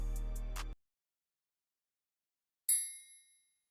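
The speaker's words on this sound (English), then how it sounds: "And for my next sound, I got this triangle." A triangle sample in FL Studio rings out once. After the brief tail of a deep bass note and a pause, a single bright metallic strike sounds and decays over under a second.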